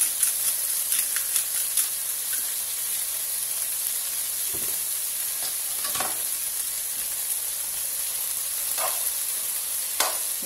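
Kale frying and sizzling in a pan with salt, a steady hiss with occasional stirring scrapes and crackles, close and continuous with no talking.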